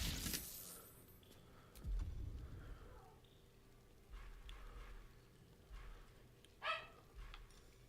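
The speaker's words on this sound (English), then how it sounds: "My dog's going nuts." Dog barking in the Baldur's Gate 3 video game, a few scattered short barks, fairly distant and faint against a quiet backdrop broken by low thumps.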